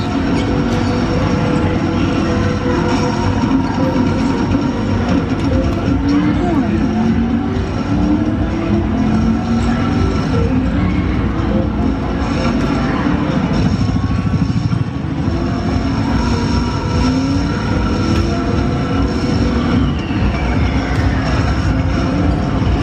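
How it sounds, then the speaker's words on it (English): A train rumbles steadily along at close range, a loud continuous roar with rattling and clanking throughout, no voices. "Are you on top of a train?"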